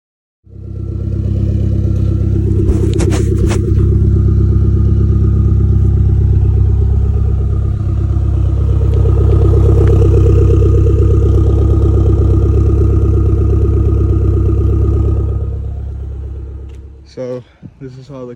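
Toyota MR2 turbo engine running after turbo work, a steady loud rumble from about one to seventeen seconds with slight changes in pitch, then it cuts off near the end.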